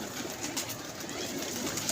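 Pigeons coo softly in a loft, a few low, rounded calls repeating over a faint, steady background.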